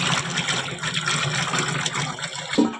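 Tamarind water poured into a pot for tamarind curry, a short gushing, splashing pour close by, fluctuating and ending with a clunk.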